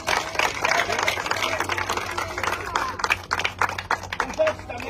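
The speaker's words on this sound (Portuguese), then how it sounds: "uma salva de palmas também para a nossa mãe" A crowd claps steadily for several seconds, a dense patter of applause with voices faintly mixed in.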